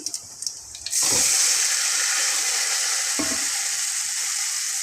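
A few soft knocks come first, then broccoli drops onto sautéed onions in a hot pan and bursts into a loud, steady sizzle. The sizzle holds close and constant with no talking.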